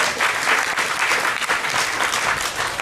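Audience applause at a high school class of 1962 fiftieth reunion, a steady dense clapping from a crowd that fills the room continuously without a break.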